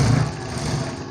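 A sewing machine runs steadily while stitching blouse fabric, its motor a continuous close whir with a low hum and no pauses, and nobody speaks.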